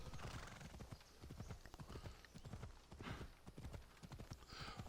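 Horse hooves clip-clop in a quick, steady rhythm in the Xbox Series X game Assassin's Creed Odyssey, with a whinny breaking in; the sound is fairly faint overall.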